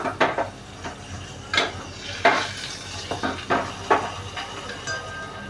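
Mustard seeds and cumin crackling in ghee for a tempering with asafoetida, meant for a tangy-sweet raw mango dal, heard as sharp intermittent pops and pan clinks over a low sizzle.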